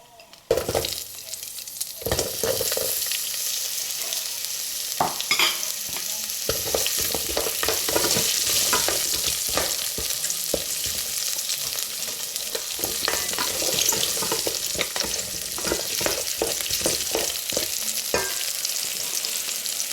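Onions fry in oil for vegetable biryani, a continuous bright sizzle holding steady throughout, broken by repeated scraping and clicking of a utensil stirring the pan up close.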